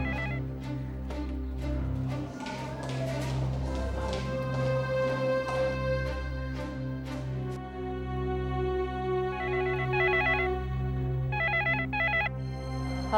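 A telephone rings in a hotel room, the ring repeating steadily across the scene over background music, with electronic ring bursts at intervals toward the end.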